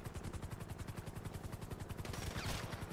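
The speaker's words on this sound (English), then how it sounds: "I can hear helis shooting him" Rapid automatic gunfire from helicopters in GTA V Online, a dense continuous stream of shots with a rumbling low end and a brighter burst near the end, loud and close with no talking.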